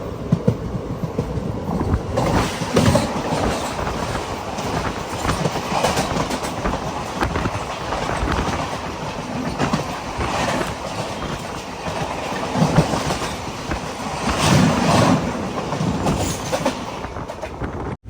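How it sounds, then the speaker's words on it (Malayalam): A train pulls into Ernakulam Town railway station, a sustained close rumble with rhythmic clickety-clack of wheels over rail joints and occasional faint wheel squeals, heard alone without talk. "എറണാകുളം ടൗൺ റെയിൽവേ സ്റ്റേഷനിലേക്ക് ഇതാ ട്രെയിൻ എത്തിക്കൊണ്ടിരിക്കുകയാണ്."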